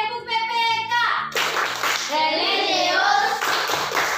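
Schoolchildren at a Christian elementary school perform the PPK clapping chant, with rhythmic claps mixed with loud chanted voices and music over a busy, continuous background.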